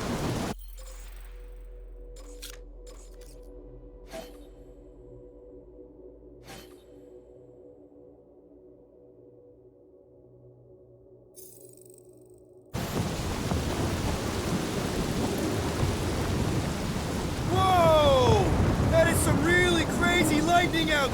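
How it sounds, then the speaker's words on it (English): Thunderstorm in Marvel's Guardians of the Galaxy: a quiet stretch with faint rumbles and sharp crackles, then a sudden loud burst of heavy rain and rolling thunder that swells near the end, with whistling tones rising over the roar. "Lightning out there!"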